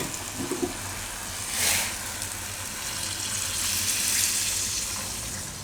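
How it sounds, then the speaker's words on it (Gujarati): Hot water poured into a clay pot of masala khichdi in a home kitchen, a soft splashing pour that swells twice, alone and fairly close. "હવે એમાં આપણે નાખીશું ગરમ પાણી."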